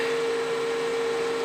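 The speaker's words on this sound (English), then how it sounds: "That noise is the fan under the hot plate there." A steady, close electric cooling-fan whir from under a hot plate, with a constant tonal hum, unchanging throughout.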